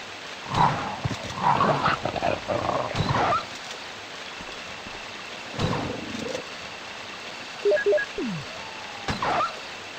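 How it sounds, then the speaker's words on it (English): Zombie dogs attack in the 1996 Resident Evil game, with bursts of snarling and growling barks broken by pauses, plus a few short electronic beeps. "Just dealing with these dogs because we're going to be coming through here again later."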